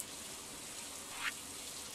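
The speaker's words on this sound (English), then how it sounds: "Oh, it's raining again." Steady rain falling in the farming video game Stardew Valley, an even, soft hiss that holds throughout with no voices over it.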